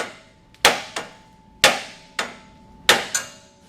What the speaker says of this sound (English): You want to use a hammer with a steel head, not a dead blow hammer.